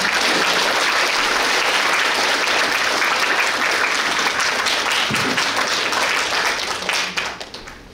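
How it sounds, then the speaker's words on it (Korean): A large crowd gives sustained applause as an official is invited to the podium at a garden expo event, a thick and even roar of clapping that thins out near the end. "여러분 큰 박수 부탁드립니다"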